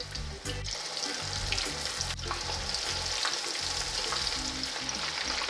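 Meatballs frying in oil, a steady close hiss and bubbling crackle that stays loud throughout, with a couple of brief clicks and no talk.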